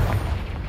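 A Confringo blasting spell from the Hogwarts Legacy video game bursts into a single heavy, low boom with a dense rumble that stays loud and sustained for the whole brief moment.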